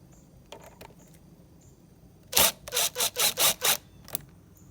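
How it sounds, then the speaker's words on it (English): The air intake hose clamp by the throttle body of a 2010 Ford Fusion is loosened with a hand tool: a few faint clicks, then a close, quick burst of five or six rasping turns, and a final click. "But I'm going to loosen up this clamp. I'm going to pull that off."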